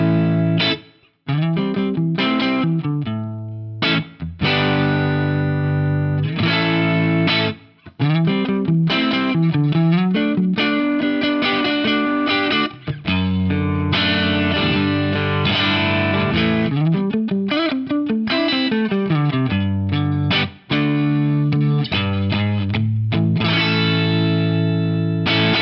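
PRS DGT electric guitar on its tapped neck pickup, played through a compressor pedal first bypassed and then engaged, giving loud distorted phrases and chords with short pauses between them and no talking.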